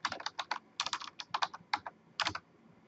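Quick bursts of keystrokes on a computer keyboard, close and crisp, clustered in short irregular runs with brief pauses between them.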